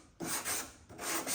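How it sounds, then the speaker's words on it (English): Sandpaper rasps over the wood of a handmade folding chair in two quick close strokes, a dry scratchy rubbing that swells and fades with each pass. "A little bit of sanding"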